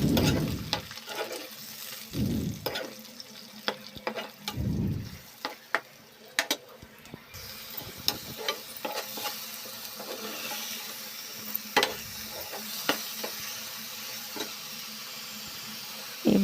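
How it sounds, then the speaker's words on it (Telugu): Masala, onion paste, chickpeas, onions and green chilies frying in a pan, a soft crackling sizzle broken by sharp stirring clicks and scrapes of a spoon, with a few louder thumps. "అది మసాలా, అది ఉల్లిపాయ పేస్ట్, శనగకాయలు, ఉల్లిపాయలు, పచ్చిమిరపకాయలు బాగా వేయించుకోవాలి."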